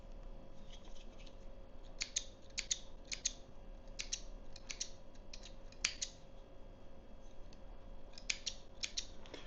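Small scissors or clippers snip excess fishing line off a rig in short, crisp clicks and cuts. They come close and fairly quiet, scattered irregularly over a low steady hum.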